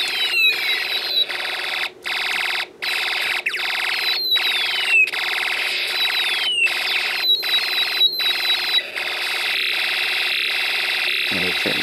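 A steady electronic alarm tone from an alarm IC in an Elenco Snap Circuits kit pulses on and off in a regular rhythm, with descending zaps and sweeps from a space war IC layered over it, loud and continuous.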